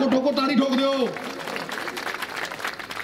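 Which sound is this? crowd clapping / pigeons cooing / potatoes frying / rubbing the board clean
crowd clapping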